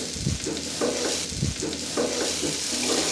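Cow brain masala, cooked down almost dry, being stirred in a pan: continuous sizzling frying with repeated rhythmic scrapes of a spoon against the bottom, close and fairly loud.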